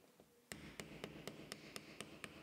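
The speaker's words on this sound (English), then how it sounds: "you can use a piece of wood and a hammer to loosen it like this" A hammer knocks on a piece of wood to loosen the locking ring of the fuel tank sender unit in a VW T5/T6 camper van. Eight evenly spaced, sharp taps sound close and clear after a short quiet start.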